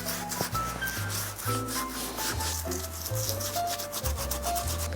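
Neutral colorless cream is rubbed onto a bespoke Silvano Lattanzi leather shoe, working into the gap between welt and upper, making a steady close scrubbing and brushing sound over faint background music.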